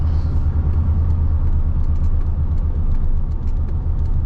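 Low, steady rumble of a 2000 Chevy Silverado 1500 with its 4.8 V8, heard from inside the cab while driving on a bumpy road, an even engine hum with road noise and faint clicks.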